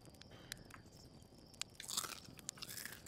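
In the video game Outer Wilds, a character bites and chews a charred roasted marshmallow. Crisp crunches come in quick bursts, with a few sharp clicks before them, all quiet and close, and no voices.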